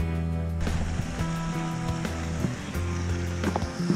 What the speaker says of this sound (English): Nice little waterfall. I love my waterfalls.